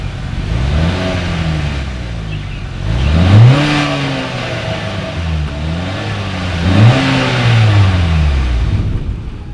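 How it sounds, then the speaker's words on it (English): A 2020 Acura RDX engine revs through its dual exhaust, with two strong rising-and-falling throttle blips that climb in pitch and drop back to idle, loud and close with no talking. "As always, here is that exhaust clip."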